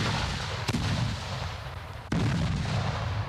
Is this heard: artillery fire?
yes